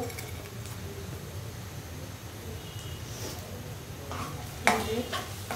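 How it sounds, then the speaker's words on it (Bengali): Onion fries in a pan as a low, steady sizzle, faint and close, with a brief clatter of a utensil near the end. "যে পেঁয়াজটা একটু ভেজে নিলাম"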